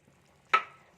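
Ground coconut paste, three teaspoons, dropped into a hot pan of cooking fish curry with one sharp splat and sizzle that fades quickly, close and clear in a quiet kitchen.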